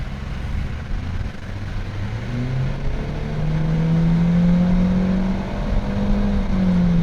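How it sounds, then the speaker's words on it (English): A 2020 Honda Civic Sport Coupe pulls away from a stop, heard from inside the cabin, its engine drone climbing steadily in pitch and loudness over several seconds with no talk. "we are taking off in the 2020 Honda Civic"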